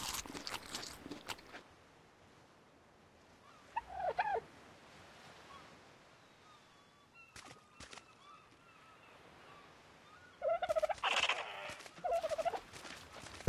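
Dodo birds calling in the video game ARK: short gobbling, fowl-like squawks in two bursts, one brief and one longer near the end, with quiet ambience and a few faint clicks between them.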